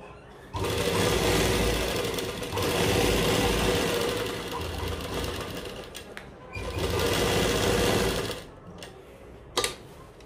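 A sewing machine hums loudly and nearby while stitching the neckline of a plain-fabric kurta, in one long continuous run with a slight dip midway, then stops, followed by a sharp click.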